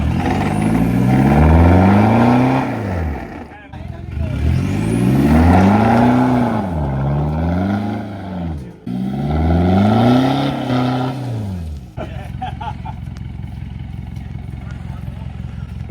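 A 4x4 off-road vehicle grinding along a rough track in Toolangi State Forest, its engine revving up and down in three long surging waves with pauses between, close and loud, then settling to a lower idle-like rumble.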